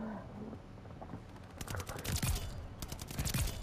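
Rapid bursts of gunfire from a gun in a Call of Duty match crackle in dense, fast volleys that build to loud clusters, with faint talk underneath.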